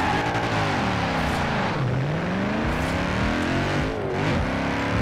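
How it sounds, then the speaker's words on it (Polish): A loud car engine drones and revs continuously, pitch dipping and rising as it shifts, close and dominant with a rushing whir behind it, in the racing game Forza Horizon 4. "Ten samochód jest strasznie głośny"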